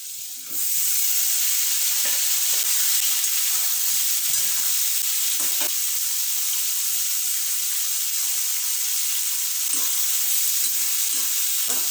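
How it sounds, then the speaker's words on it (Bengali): Ridge gourd dropped into a pan of frying potatoes sets off a loud, steady sizzle that holds for the whole stretch, with faint scraping and clinks from stirring now and then. "এবার আমি ঝিঙেটা দিয়ে দিচ্ছি।"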